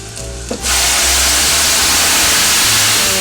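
Blended pepper hits hot frying oil for ewa agoyin sauce, setting off a loud, sudden, steady hiss and sizzle that drowns out everything else after a brief clatter.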